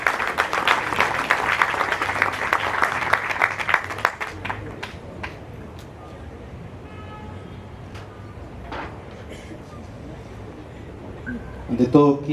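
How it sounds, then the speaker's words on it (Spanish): Audience applause welcoming Dr. Manuel Ángel Clausen Olivares at a Universidad Ricardo Palma lecture, a dense, fairly loud burst of clapping for about four seconds that fades into quieter scattered claps and room noise. "Recibamos con un fuerte aplauso al doctor Manuel Ángel Clausen Olivares"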